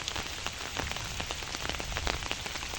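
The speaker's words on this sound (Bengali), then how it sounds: "আবার বৃষ্টি শুরু হইতেছে চলবে সারাদিন" Heavy rain falls steadily on a goat farm, a dense close patter of drops striking surfaces without pause and with no talking.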